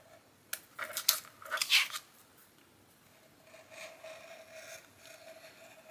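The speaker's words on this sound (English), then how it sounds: "take an X-Acto knife, grab that, and cut out the frame here." Several short scraping cuts as an X-Acto knife slices through paper to cut out a frame for an envelope journal, clustered in the first two seconds, close and crisp, followed by a faint, quieter rasping.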